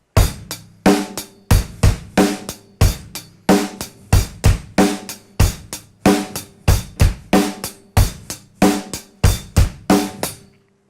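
Beginner drum kit beat pattern played at a quicker tempo, with steady evenly spaced hits, sharp cymbal and snare strikes over low kick thumps, loud and close, with no voice.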